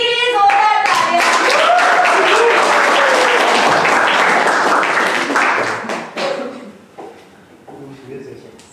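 Loud, dense audience applause for a performer at a music event, with voices mixed in, fading into scattered claps toward the end.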